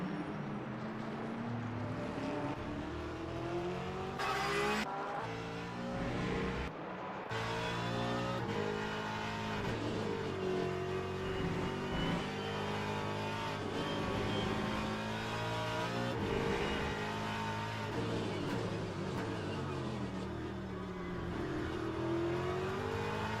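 A Porsche race car in a sim racing game at Bahrain accelerates hard out of a corner, its engine note rising and falling through sharp upshifts and revving, loud and continuous with other cars audible around it.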